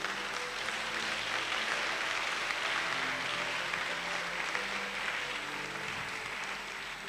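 Sustained applause from a church congregation fills the room, steady and dense throughout, with no pauses or speech.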